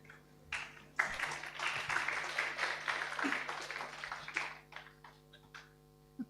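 Audience applause after a guest lecture by Pauline Wong, a broad wash of clapping that swells quickly, holds steady for several seconds, then thins out into scattered claps at moderate distance.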